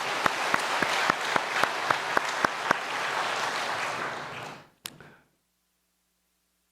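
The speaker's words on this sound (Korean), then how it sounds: "박수로 하나님께 영광 돌려드립니다." A church congregation claps together during a Sunday afternoon service, a dense steady wave of applause with a few sharp louder claps standing out, fading away to a final isolated clap and then silence.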